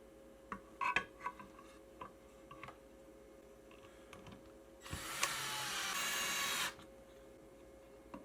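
The electric motor of a UV-resin bottle tumbler runs as a steady, close whir for about two seconds and then cuts off. Faint ticks and small handling knocks come before it.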